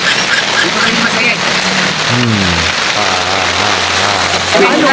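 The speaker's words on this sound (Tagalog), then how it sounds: "Lagi na lang umuulan." Steady rain falls in a dense, even hiss throughout, close and fairly loud, with a low engine-like hum and faint background voices mixed underneath.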